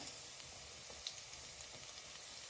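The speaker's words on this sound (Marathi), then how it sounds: "आता आपण तेलामध्ये एक चमचा मसाला टाकू" Spice powder hits hot oil with garlic in a pan while aloo mutter is being cooked, giving a steady, close sizzling hiss that stays even throughout, with faint crackles rising here and there.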